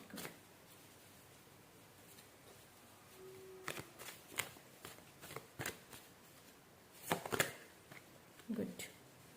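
Tarot cards drawn and shuffled from a deck during a reading, giving scattered soft papery flicks and snaps at close range, mixed with brief background speech.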